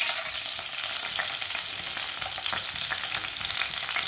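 Finely chopped spinach frying in oil in a pan, a steady broadband sizzle with light stirring scrapes, constant and close for the whole stretch, no voices.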